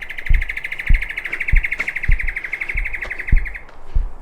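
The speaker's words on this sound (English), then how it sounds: "And no shortage of birds." Birds chirping along a walk at Picnic Point in Toowoomba, Queensland: a steady rapid trill of calls runs throughout, with sharp louder chips repeating about every half second nearby, no talk.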